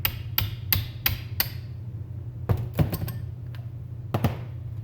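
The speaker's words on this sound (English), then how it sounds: "that's the smallest hammer I could find at the time too" A small hammer tapping parts out of a wheel cylinder on a Camaro Z28, with five sharp metallic taps in a quick even series, a pause, then scattered sharp knocks, close and loud.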